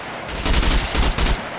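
Gunfire in the video game Scum during a PvP team deathmatch: three short, loud automatic bursts in quick succession with no talking.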